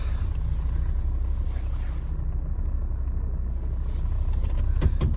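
Steady low engine and road rumble from inside a car on a commute to work in Oklahoma, continuous and fairly loud, with a few faint clicks toward the end.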